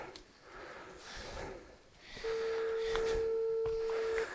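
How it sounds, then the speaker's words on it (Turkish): A faint, steady electronic phone tone sounds inside a cave, holding for a couple of seconds after quiet breathing and rustling. "Bir telefon sesi geliyor"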